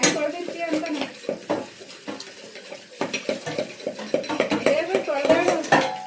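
Dishes and vessels clink and clatter while being washed in a home kitchen sink, with scattered irregular metallic knocks and scrapes and running water underneath, and a voice talks intermittently throughout.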